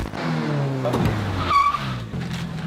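Toyota AE86 drifting, its engine note revving up and down with a sharp tire squeal partway through, loud and close with no talk.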